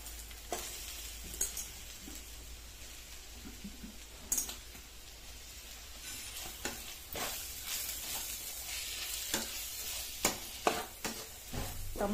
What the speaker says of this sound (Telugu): టమాటా వేసుకొని కొంచెం ఉప్పు వేసుకున్నామండి అడుగంటకుండా. బాగా ఫ్రై అవ్వాలండి.